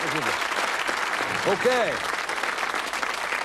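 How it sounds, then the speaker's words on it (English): Studio audience on the Bullseye UK game show applauding steadily and loudly throughout, with a presenter speaking briefly over the clapping. "Give them a nice round of applause."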